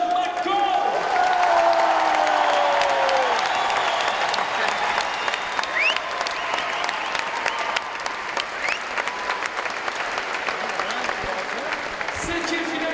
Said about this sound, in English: Applaudissements pour le Canadien